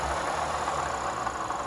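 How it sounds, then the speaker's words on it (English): A Lexus engine runs with a failing water pump, giving a steady, dense grinding whir that holds constant without a break, fairly loud and close. "This grinding noise that you hear, it's directly coming from the water pump."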